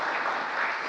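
Steady, dense applause from a large audience at a political event, continuous clapping at full strength throughout with no break.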